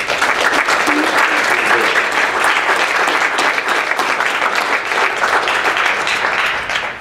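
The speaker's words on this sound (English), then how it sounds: "So a round of applause for the artists" Audience at a Native American art exhibition in Halifax applauding the artists, a loud, dense, continuous wash of clapping from a sizeable crowd that tapers slightly at the end.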